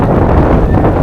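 Strong Arctic winter wind buffets the microphone outside the boat Polaris, a loud, continuous low roar filling the whole clip.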